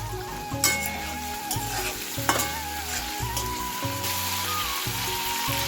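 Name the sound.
prawns frying and being stirred in a pan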